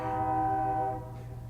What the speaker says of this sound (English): 3:30, train's coming through.